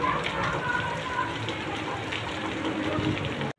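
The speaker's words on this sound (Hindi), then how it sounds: "मैं दिखा दी दोस्तों बारिश कैसा हो रहा कैसा नहीं हो रहा है।" Rain falls steadily during the rainy season, a dense, even hiss of drops on surfaces that holds at a constant level and then cuts off abruptly.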